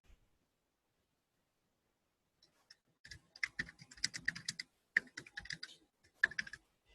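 Someone types on a computer keyboard, brief bursts of close, quiet key clicks following near silence, with short pauses between clusters.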